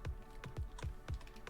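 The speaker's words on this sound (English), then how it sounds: "I'm gonna type it in" Keys tapped on a keyboard while a code is entered, about six soft, evenly spaced clicks in a quiet room, close and faint.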